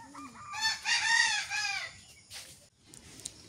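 Chickens of a black hen breed call close by on a quiet morning: a rising, drawn-out crow followed by a few short clucks, with no talk.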